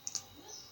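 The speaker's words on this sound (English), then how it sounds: "click that row number and right click" Two quick, crisp clicks from a computer mouse while selecting a row number and right-clicking in an Excel spreadsheet, close and fairly quiet, followed by a faint hum.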